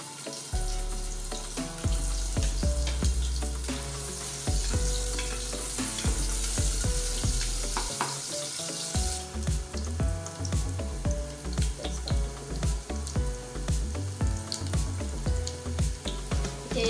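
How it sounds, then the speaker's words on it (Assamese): Onions sizzle loudly in hot oil inside a pressure cooker, a steady dense crackle broken by bursts of stirring and a sharper surge of frying about halfway through, close and continuous with no voices. "তেলখিনি গৰম হ'লত ইয়াত মই এতিয়া দিছো পিঁয়াজ"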